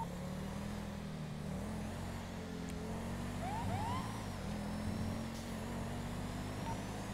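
A red Ford Mustang accelerates behind a moving car, its engine a steady low drone under road and traffic noise, with a faint siren-like whine passing briefly in the middle.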